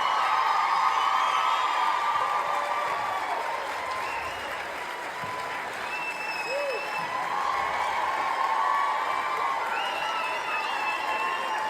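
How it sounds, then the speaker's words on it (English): An audience applauds and cheers for Christian songwriter Graham Kendrick as he joins the stage, a dense, sustained roar of clapping with occasional whistles and shouts, steady and loud throughout with a crowd feel. "Huge round of applause for Graham Kendrick."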